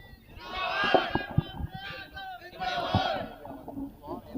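A crowd at a religious gathering answering the Takbir chant, several loud shouted responses rising and falling in waves, with voices overlapping in a dense roar.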